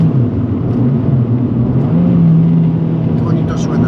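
Inside a 2023 Abarth 695 Competizione, 180 hp, in sport mode, the engine pulls and rises in pitch as the car accelerates, a loud continuous growl with someone talking over it.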